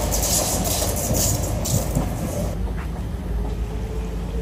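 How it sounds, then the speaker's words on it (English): A Siemens C651 MRT train rolls along the rails, a loud, steady rumble with rhythmic wheel clatter that eases slightly as it passes. "The only train that still carries the original MRT livery color design from 1995."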